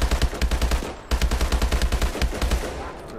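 Rapid automatic gunfire from Call of Duty: Advanced Warfare multiplayer, a steady rattling burst of close, loud shots that breaks off briefly and resumes, with no talking over it.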